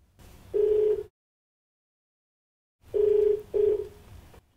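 A telephone rings while a caller is connected to a live TV phone-in programme, one clear ring burst, then silence, then a double ring, loud and close with no talk.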